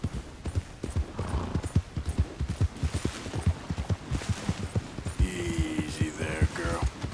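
A horse galloping in Red Dead Redemption 2, with fast rhythmic hoofbeats close and steady throughout, then a whinny and game sounds rising over the hooves near the end.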